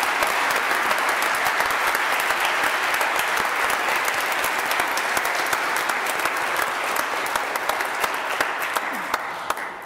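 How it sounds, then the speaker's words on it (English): A church congregation applauds after a Sunday Mass prayer, a full, dense round of clapping that holds steady for about ten seconds before easing off slightly at the end. "And let us express our appreciation by a round of applause."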